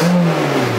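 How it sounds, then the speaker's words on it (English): A car engine with anti-lag revs sharply with a rough, popping growl, loud and close, in one brief burst. "And now my anti-lag works."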